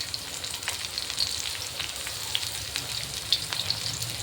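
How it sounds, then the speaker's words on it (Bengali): Chopped onions sizzle in hot oil over high heat, a close, steady crackle dotted with sharp pops and spits throughout. "এখন আমি তেলের মধ্যে দেবো পেঁয়াজগুলো"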